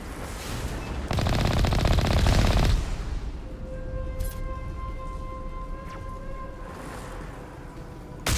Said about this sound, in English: This machine gun is an absolute goddamn laser.